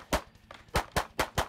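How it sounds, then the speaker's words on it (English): Shadow Systems DR920 pistol fired on a shooting stage, five sharp shots in quick uneven succession with a short pause after the first, crisp and fairly close. "that's the first stage I shot with the DR920"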